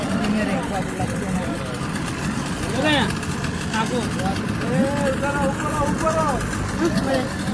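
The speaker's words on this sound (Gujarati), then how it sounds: "બોટ આવી ગઈ છે ફાઇનલી." A Yamaha-engined motorboat idles steadily at a crowded Narmada river crossing, a continuous low engine drone under loud nearby chatter and voices of waiting passengers.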